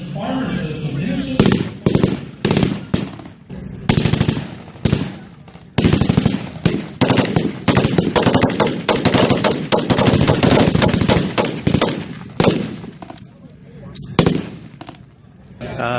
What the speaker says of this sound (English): right now they're doing a Vietnam reenactment with some blank ammunition